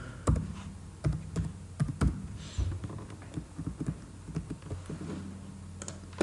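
Rapid keystrokes on a computer keyboard while writing HTML code, irregular clicks and taps with short bursts and pauses, close and fairly quiet, no talking.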